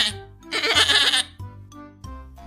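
Sheep or goats bleating nearby, a series of wavering, nasal cries with one long, loud bleat in the middle and shorter calls after it.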